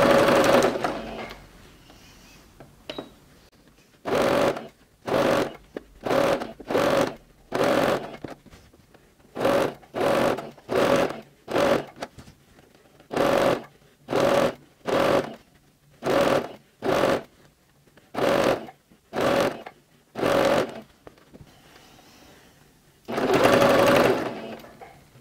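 A sewing machine with its presser foot down stitches bias binding onto fabric, running in a long series of short, even bursts with brief pauses between them, loud and close and with no talking.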